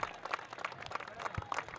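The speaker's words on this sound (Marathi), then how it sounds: "टाळ्या आपोआप वाजतायत" Spectators clapping at a local premier league cricket match, a thin, fairly distant patter of applause running steadily throughout, fairly quiet overall.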